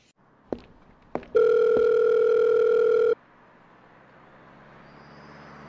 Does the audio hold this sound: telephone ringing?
yes